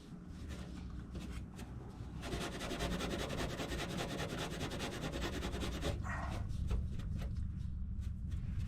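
Rhythmic scrubbing of a part with a Scotch-Brite abrasive pad, close and fairly quiet, with rapid back-and-forth rubbing strokes that quicken and grow steadier partway through, then pause briefly.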